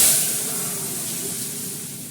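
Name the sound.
dal poured into hot oil with panch phoron tempering, sizzling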